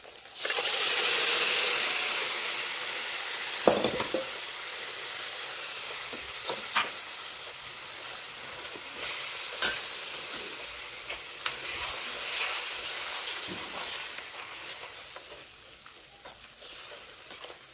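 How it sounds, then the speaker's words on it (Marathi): Vegetables sizzle in hot oil during a spiced tempering in a pan, with a steady frying hiss and occasional sharp clinks and scrapes of stirring. "चला मस्त भाजी फोडणी दिली."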